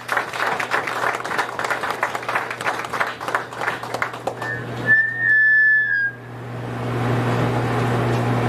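An audience welcoming a pastor breaks into brisk clapping with a sharp whistle, then the applause falls away into a steady low background hum.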